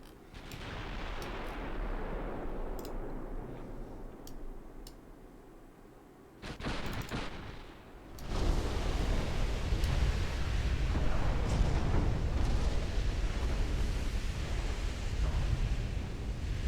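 Deep rumbling blasts and surging noise from torpedo hits in a naval battle game, with sharp crackling bursts and a heavy roar that swells after the midpoint and stays loud to the end.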